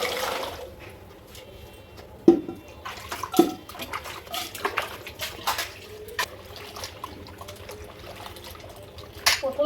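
Raw mangoes are washed by hand in tubewell water. There is close sloshing and trickling, with a few sharp splashes and clunks scattered throughout.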